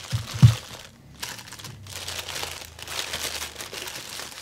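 Plastic protective wrapping crinkles and rustles as a boxed OTTOmobile Renault 5 Maxi Turbo rally model car is unpacked, a few sharp crackles followed by softer irregular handling noises, close and without speech.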